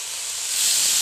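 A lamb leg sears in a hot pan, a steady bright hiss that swells slightly louder partway through, close and alone without speech.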